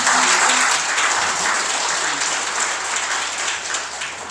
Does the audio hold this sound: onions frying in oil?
no